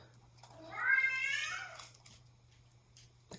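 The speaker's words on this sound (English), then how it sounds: "The cat's driving me nuts." A single drawn-out house cat meow, close and clear over a faint steady hum, trailing off into small quiet indoor sounds.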